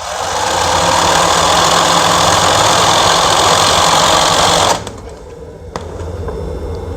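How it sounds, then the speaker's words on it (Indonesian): An embroidery machine whose needle keeps opening by itself runs during a test, giving a loud, steady mechanical whir that drops abruptly near the end, leaving a quieter hum with a brief clack. "kita tes dulu mesin boril ini apakah masih membuka apa enggak"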